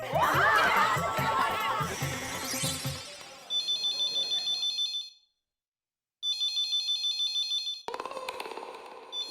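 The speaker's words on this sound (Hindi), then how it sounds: "दया फोन क्यों नहीं उठा रही है?" An electronic telephone ringtone chirps in repeated bursts with a short silent gap, following a stretch of lively music and laughter at the start.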